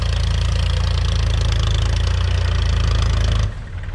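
A heavy diesel tractor engine idles steadily with a deep, rumbling throb, loud and close, then drops off abruptly near the end.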